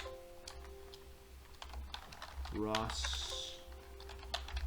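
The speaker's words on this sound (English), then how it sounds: "I'm just using the insert key on my keyboard as a shortcut key" Keys pressed on a computer keyboard while filling in a construction project schedule, scattered soft taps under a man's brief speech, with a short melodic electronic tone sweeping in the middle.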